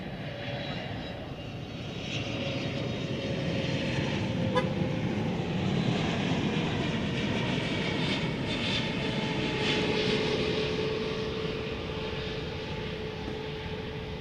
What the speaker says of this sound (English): So I believe that is the American Airlines currently their highest capacity plane.